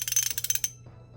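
A Kobalt Pro 90-tooth quick-release ratchet is turned, producing a rapid run of fine, crisp clicks close up, roughly a dozen in under a second before stopping.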